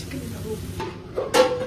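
Egg frying in a pan for Maggi noodles with Maggi masala added, giving a soft sizzle and brief stirring scrapes, with a sharper scrape near the end.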